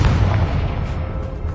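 A fiery Confringo spell blast goes off in Hogwarts Legacy as a loud, close booming burst. The rumbling, crackling noise fills the short moment, with no voices.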